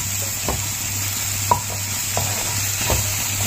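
Tilapia pieces frying in a cooked-down masala in a pan, with a low steady sizzle under a few sharp spoon taps and scrapes from stirring.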